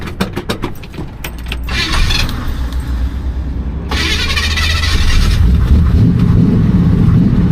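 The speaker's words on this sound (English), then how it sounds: "I'll go ahead and start this one up." A few key jingles and clicks, then a 1967 Chevelle's engine cranks and catches, settling into a loud, rumbling idle close by.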